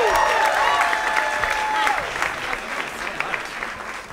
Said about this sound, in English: So everybody clap it up